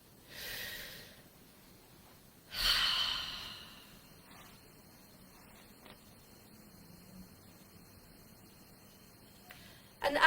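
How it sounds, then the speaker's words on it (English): Two deep breaths drawn during a guided healing session, each a breathy inhale about a second long, close and soft, separated by a quiet pause, with no talk over them. "I would love for you to take a nice deep breath with me"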